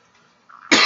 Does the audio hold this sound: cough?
yes